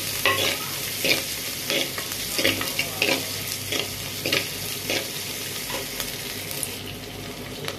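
Onions sautéing in a pan for brinjal drumstick sambar, a steady sizzle broken by regular scraping stirs about once a second, close and moderately loud with no talking.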